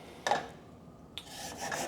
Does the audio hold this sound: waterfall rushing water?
no